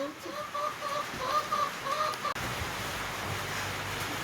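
Chicken clucking in short repeated bursts over the first half, then steady background noise; no voices.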